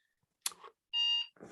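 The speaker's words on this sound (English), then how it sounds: "Oh, it's me alarm." An alarm sounds with one brief, steady electronic beep tone, set between short bursts of noise in an otherwise quiet room.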